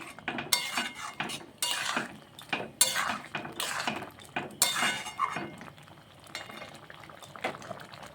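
A metal spoon clinks and scrapes against a pan as a homemade spice mix is stirred into mixed lentil dal, in an irregular run of close, fairly loud strokes over a faint bubbling simmer.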